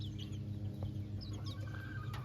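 Small Bengal chicks and chickens make faint, scattered clucks and chirps over a steady low hum of farm background noise, with no one speaking.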